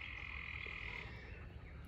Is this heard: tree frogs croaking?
yes